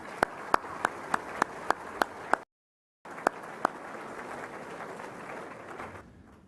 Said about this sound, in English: let's give all of you, our members and our supporters, a big round of applause for your support